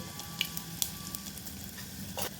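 Garlic sizzles steadily in hot oil, a soft continuous crackle with a few small pops, close by and with no voices.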